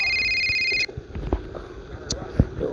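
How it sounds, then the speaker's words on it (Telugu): Electronic phone ringtone from the video game Rope Hero, a steady tonal ring that plays loudly for under a second before cutting off, followed by game noises and a voice talking. "ఎవడ్రా ఏ టైంలో ఫోన్ చేస్తుంది?"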